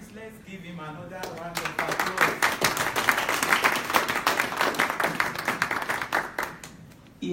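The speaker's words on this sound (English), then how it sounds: "Please, let's give him another round of applause." An audience applauds after a pre-induction lecture at an information management institute, the clapping starting after a brief spoken moment and building into a steady round before stopping abruptly.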